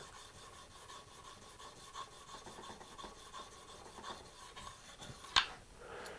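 A dull spokeshave blade is rubbed back and forth on flat sharpening plates, giving a steady, fairly quiet rasping scrape with faint strokes and one brief louder scrape near the end.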